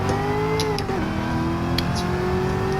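A Chevrolet C6 Corvette ZR1 engine at full throttle in a racing video game, a loud, steady, continuous high-revving drone that dips briefly near the one-second mark, then holds its pitch, alone with no talk.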